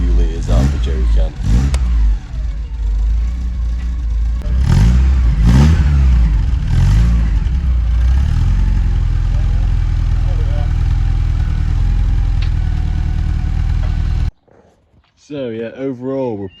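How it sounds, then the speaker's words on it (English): A Porsche engine struggles to fire after running out of fuel and being topped up with a few litres from a jerry can, cranking and catching unevenly, then revving loudly and roughly before cutting out abruptly, close by. "Ignore the hard starting of the car, it had just run out of fuel"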